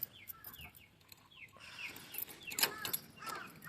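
Chickens in their coop cluck and call insistently in the morning, waiting to be let out. The short repeated calls are close and overlap, growing busier toward the end.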